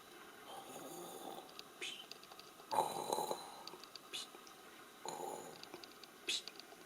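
Soft snoring from a sleeper in a dark, quiet room, a few faint breathy snores spaced out at an uneven rhythm.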